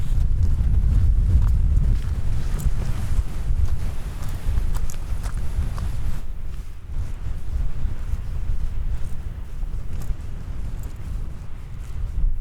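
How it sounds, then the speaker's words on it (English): Strong wind buffeting the microphone on a fell hillside, loud low rumbling gusts that ease somewhat after the first few seconds, with no talk. "it's so windy"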